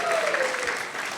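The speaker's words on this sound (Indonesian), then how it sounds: "Tepuk tangannya kurang keren kalau buat Tuhan kayak gitu." Brief burst of audience applause at a Christmas celebration, a steady wash of clapping at moderate level throughout with a faint voice trailing off at the start.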